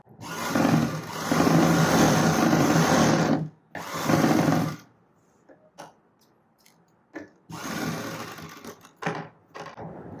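A sewing machine stitches a blouse in loud, close bursts of buzzing motor and needle chatter, stopping for quiet gaps with light handling clicks before a final run.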